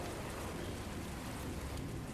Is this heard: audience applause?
no